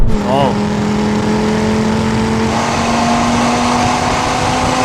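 A new Audi RS3 pulls away hard in a drag race, its engine note rising then holding a steady, loud drone, with voices talking over it.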